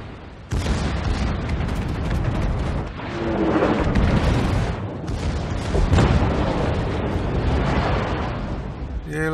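Secondary guns of the warship HMS Hawkins firing in a naval battle game, dense overlapping booms and blasts rolling together into a loud, continuous barrage with no talking.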